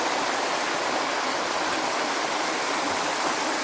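Steady, full rush of a small waterfall pouring into a pool at an RV resort on Vancouver Island, a continuous close wash of water with no talk.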